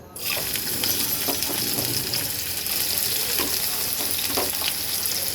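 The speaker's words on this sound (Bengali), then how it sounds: "প্রথমে আমি কড়াইতে তেল গরম করতে বসিয়ে দিয়েছিলাম আর এখন আমি দিয়ে দেব করলাগুলো" Bitter gourd slices dropped into hot oil in a wok burst into a loud, steady sizzle that carries on close-up, with a few faint stirring clicks and no talking.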